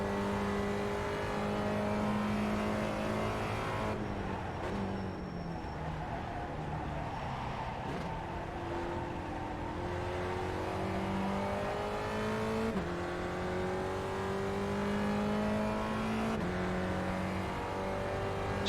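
Spec Racer Ford Gen3 race car engine in the sim game iRacing, a steady droning engine note climbing in pitch through the gears with brief dips at shifts, continuous and close.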